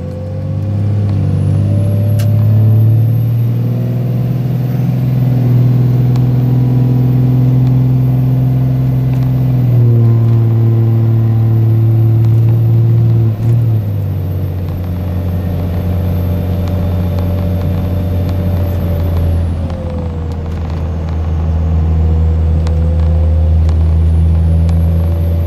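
A truck fitted with an HX35 turbo climbs a hill, its engine droning loud and steady with shifting pitch steps as it pulls under load, heard up close and alone.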